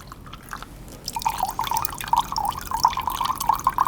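Water pours and trickles through a homemade siphon Greed cup, a steady bubbling, dripping flow that starts after a second and continues close by without talk.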